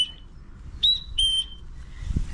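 Short, sharp high-pitched whistle blasts from a shepherd commanding a sheepdog with ewe lambs nearby, a brief tone followed by two rising and held calls, fairly close, over low outdoor rumble.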